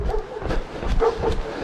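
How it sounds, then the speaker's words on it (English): A guardian-type dog barks a few times outdoors in Barga, Italy, in short, moderately distant woofs spaced across a brief moment. "That one's like our old dog Bodie, a Guardian breed, just doing his job"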